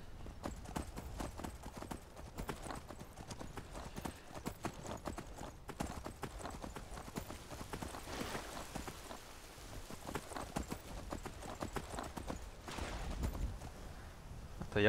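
In Skyrim, a horse's rhythmic hoofbeats clip-clop steadily for a long stretch, with a soft rain-like patter and faint background ambience.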